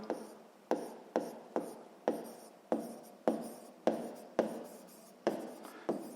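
A pen writes on paper while working a sixth-grade math exercise, a run of about a dozen quick scratchy strokes in an uneven rhythm, close and clear with no talk.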